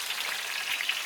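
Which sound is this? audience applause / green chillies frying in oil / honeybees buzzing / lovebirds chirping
green chillies frying in oil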